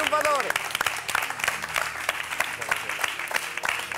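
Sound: audience applause in cabaret show

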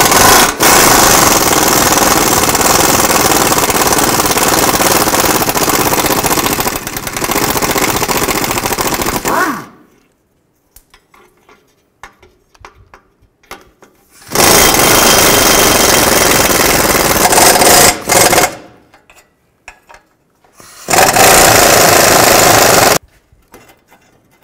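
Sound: power tool with 12mm socket removing exhaust nuts

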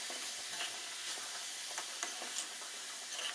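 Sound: stirring and frying tempering with curry leaves in a pan

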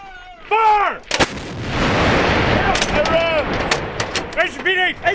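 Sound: Marine M777 howitzer or 120mm mortar firing

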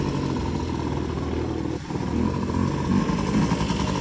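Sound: two-stroke scooter engine running

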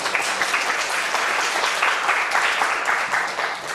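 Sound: audience applause

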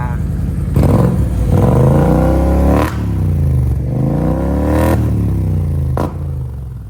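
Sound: BMW 650GT engine revving

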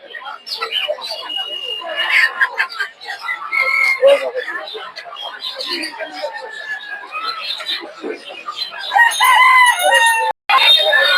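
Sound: local desi chickens clucking and crowing at Tongi market

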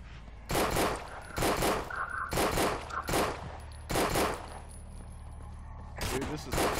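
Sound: gunshots from a Glock pistol in a video game

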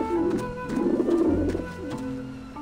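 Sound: pigeons cooing in video game Grim Fandango

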